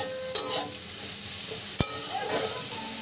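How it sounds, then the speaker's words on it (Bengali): Eggplant frying in oil in a home kitchen gives a steady close sizzle, broken by two brief sharp clatters of stirring or utensil contact, with no talking. "একটু ভাজা ভাজা হয়ে যাচ্ছে, তো এখনই আমি তেলটা দিয়ে দিই। তেলটাও হতে থাকবে, ওদিকে বেগুনটাও ভাজা হয়ে যাবে।"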